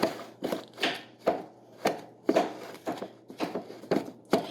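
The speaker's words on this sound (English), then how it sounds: "So you just cut in your butter." Butter is cut into muffin flour with a wavy potato chip slicer, making a steady run of about ten dull, close chopping thuds against a bowl, each with a short scrape.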